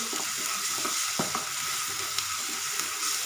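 Onions frying golden brown with ginger-garlic paste, a constant close sizzle with a few soft spoon strokes through the pan, no talking.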